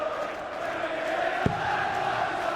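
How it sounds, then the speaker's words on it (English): A large crowd of over 10,000 at the Hydro for a Premier League Darts match keeps up a steady roar of cheering throughout, with one brief louder thump partway through. "And the crowd are up for it already"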